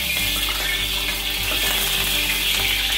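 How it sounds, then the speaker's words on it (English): Hot oil spits and splutters in a wok after a wet ladle touches it, a dense, continuous crackling hiss heard alone over a low kitchen hum. "I guess my ladle was a bit wet, hence all the splutter."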